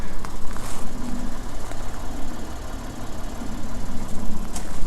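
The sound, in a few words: Lexus IS 250 car engine idling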